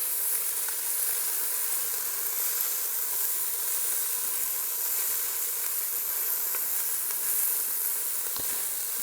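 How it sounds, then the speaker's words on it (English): Tofu, onions and garlic sauté in a Ninja Foodi pot, giving a steady close sizzle and crackle of frying that holds evenly throughout, with a faint scrape near the end. "maybe a little more of the saute warm-up cycle for the tofu and onions"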